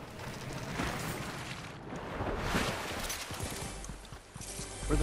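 Grenade explosions in a PS5 shooter game: a dense, rumbling wash of blasts and debris, with booming swells around the middle and a heavy thump at the end, continuous and loud throughout.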